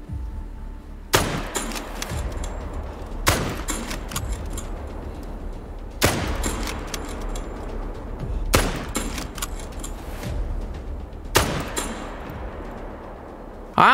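Rifle shots at a bighorn sheep in a hunting video game ring out five times at spaced intervals. Each is a sharp, loud crack with a short tail, and faint ambient noise fills the gaps.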